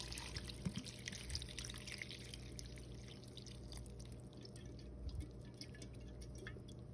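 Canned beef broth is poured into a rice cooker, making a steady, close liquid trickle and splash with a few soft drips over a low background hum.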